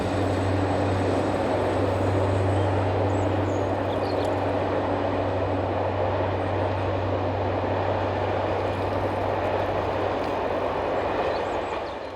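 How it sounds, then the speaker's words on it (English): Locomotive 67576 hauling a Paris to Bologna passenger service passes by, a steady low engine drone with continuous rumbling rail noise heard from trackside and fading slightly at the end. "the passing of 67576 on the 1031 Paris to Bologna service"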